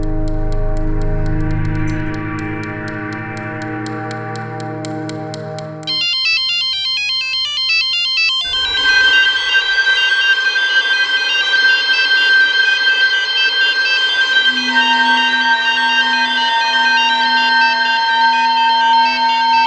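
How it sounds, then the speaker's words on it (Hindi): An electronic phone ringtone plays in a crime drama scene, a steady, loud repeating melodic tone that shifts pattern partway through and runs continuously with no talking. "फ़ोन उठाइए"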